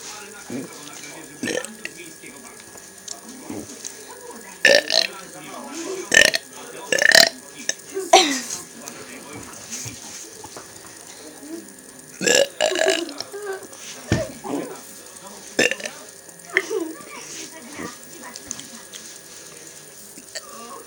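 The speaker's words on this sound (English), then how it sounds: "And this is a video of him burping." A nine-year-old boy lets out a series of loud, separate burps spread over about twenty seconds, with quieter gaps and a few short bursts between them.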